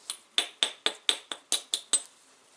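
Flint knapping, with small flakes trimmed off stone: nine sharp, close percussive clicks with a glassy ring, evenly spaced about a quarter second apart, then quiet. No one speaks.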